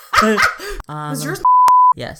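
Censor bleep masking a spoken phone number: a single steady electronic tone of about half a second, cutting in between stretches of conversational speech.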